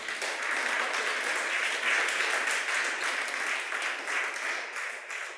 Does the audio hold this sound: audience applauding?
yes